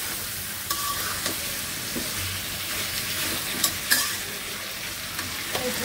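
Hilsa fish is stirred with spices in a hot pan, giving a steady close sizzle broken by irregular clinks and scrapes of a spoon against the metal, with no speech.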